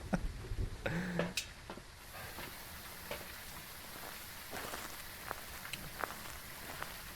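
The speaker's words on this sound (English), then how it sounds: "you hear water in the game? You sure it's like rain?" Steady soft rain patter in Phasmophobia, a continuous hiss with scattered faint ticks and drips, quiet and even throughout with a brief louder knock near the start.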